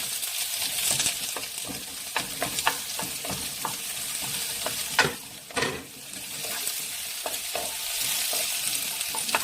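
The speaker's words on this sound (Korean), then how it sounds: "올리브 오일을 조금 둘러주시고 코팅을 해주시고 마늘과 이 양파를 넣고 먼저 볶아주세요." Garlic and onion stir-frying in olive oil in a pan for cabbage namul, a steady close sizzle with scattered scraping stir sounds and a couple of louder clatters midway.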